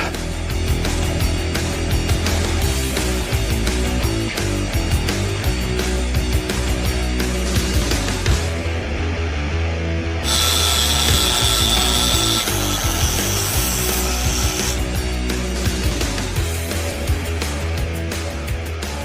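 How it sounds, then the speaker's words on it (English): An angle grinder cleans steel and bevels its edge in a garage before a trailer hitch is welded onto truck frame brackets. The grind is loud, continuous and close, shifting pitch briefly midway. "Now I have to grind this clean so that it's weldable."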